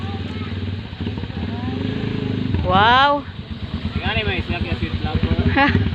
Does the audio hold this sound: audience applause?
no